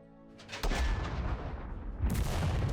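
Gunfire from a sniper and an anti-tank gun in the Second Front war game, two heavy booming shots with rumbling tails, loud and close, with no voices.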